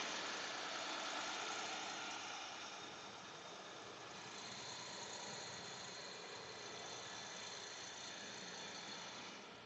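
A truck's engine drones steadily from inside the cab while driving on Texas highway 287 between Amarillo and Terrell, a continuous broadband rumble with road noise and no breaks, moderately loud throughout.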